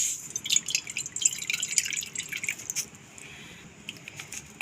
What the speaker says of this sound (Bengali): এখন কড়াইয়ে একটু জল দিয়ে দিচ্ছি।